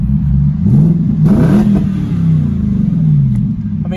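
A BMW 645ci with a muffler-deleted exhaust revs up close and loud, its engine note climbing and falling in a couple of throaty sweeps over a steady idle rumble.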